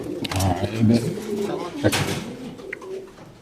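Racing pigeons coo in low, throaty bursts close by, with a faint voice murmuring in the background.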